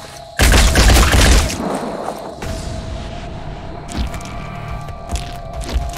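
A grenade explodes in the tactical game Phoenix Point, one loud, booming blast with a long rumbling decay. Scattered softer thumps and clicks follow over steady background ambience.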